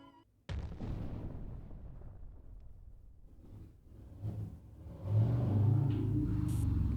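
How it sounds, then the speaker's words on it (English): A loud car in the Umineko When They Cry visual novel roars in with a sudden heavy rumble, holds a deep engine drone, then swells louder near the end. "That is a loud car."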